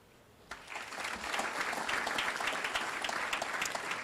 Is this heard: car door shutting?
no